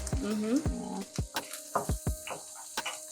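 Chopped chilies go into garlic already sizzling in a pan, giving steady frying crackle with a few sharp clatters and thumps, while people talk over it.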